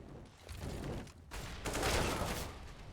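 Gunfire in Counter-Strike on the Dust2 map during a pro match, a couple of bursts of rapid shots, the louder burst coming after a short gap.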